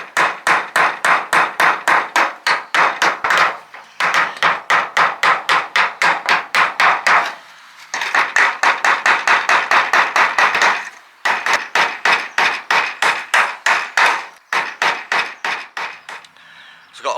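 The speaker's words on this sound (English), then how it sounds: "Right, time to get them in the final positions. Nail them down." A hammer drives nails to fasten a replacement shed roof on an allotment, striking in rapid, steady runs of sharp knocks with short pauses between bursts, loud and close, alone without talk.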